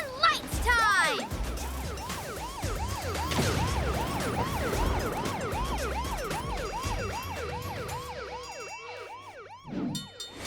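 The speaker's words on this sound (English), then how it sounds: "Sirens and lights time!" A cartoon emergency siren from the Mighty Express train show wails in rapid, repeated rising-and-falling sweeps, loud and continuous for several seconds, with short bursts of voices and effects at the start and end.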